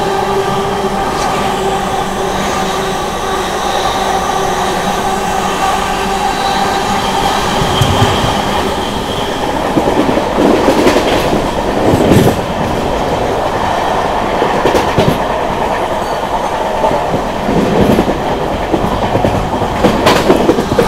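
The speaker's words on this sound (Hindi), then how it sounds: "सुबह के 10:05 पे बर्थना को प्लेटफॉर्म लाइन से स्किप कर रही है अमृत भारत।" An Amrit Bharat Express train passes through the station at Barthana on the platform line without stopping, a loud, close, sustained rumble with steady rail noise and rhythmic clickety-clack wheel beats growing more pronounced as it runs by.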